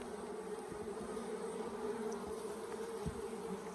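Honey bees buzz steadily around an opened hive on a homestead, a dense continuous hum with no talk, fairly close and even in loudness throughout.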